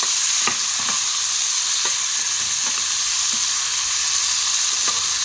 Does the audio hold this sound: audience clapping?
no